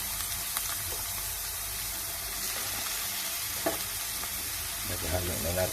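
Ginger and jackfruit fry in a pan for a Filipino binisaya dish, giving a steady close sizzle with occasional stirring scrapes and no talking.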